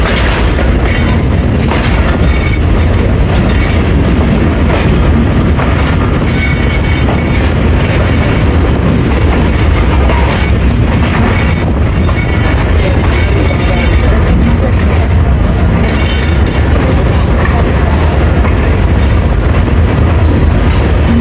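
The Karachi Express rolls at speed between Multan and Lahore in a continuous loud roar, with wheel clatter and rumbling heard close from inside the train. No speech rises above the noise.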